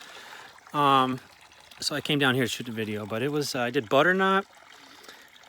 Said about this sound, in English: Nice little fresh mountain stream.